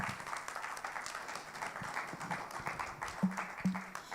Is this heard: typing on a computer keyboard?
no